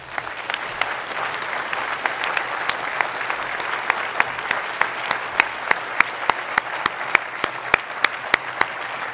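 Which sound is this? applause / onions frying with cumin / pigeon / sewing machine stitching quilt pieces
applause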